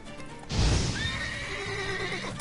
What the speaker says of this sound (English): That horse is tired of your shit.